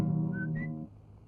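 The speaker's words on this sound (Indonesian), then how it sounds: "Gua kan nggak nyanyi, cuman sual siul aja." A man whistles a short tune close by, a couple of clear pitched notes rising briefly over a low steady hum before fading out.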